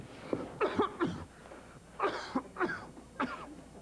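A man's rough, wet coughing fits, several harsh bursts in two clusters, close and moderately loud against a quiet room.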